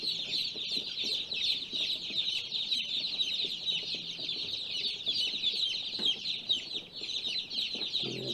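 A crowd of newly hatched baby chicks cheeps without pause, many shrill overlapping peeps forming a steady chirping chorus at close range, faint in level, with no voices.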